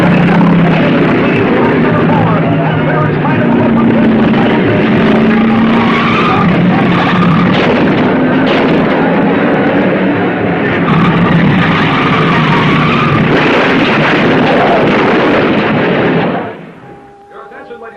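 Race cars roaring around a track in a qualifying heat race, a dense, loud wall of engine noise with tire squeals and skids, continuous until it drops away abruptly near the end, with an announcer's voice underneath.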